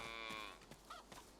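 A single drawn-out cow moo in the video game Divinity: Original Sin II, fairly quiet, followed by a few faint short sounds and a soft background hum.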